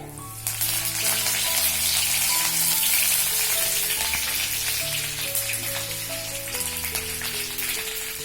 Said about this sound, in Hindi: जब गर्म होने लगे तो उसमें आप ये राई डाल दीजिए 1 चम्मच। करी पत्ता डाल दीजिए।